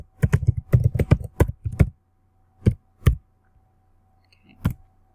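A password is typed on a computer keyboard: a quick run of close, crisp key clicks for about two seconds, then a few isolated presses after pauses, no voices.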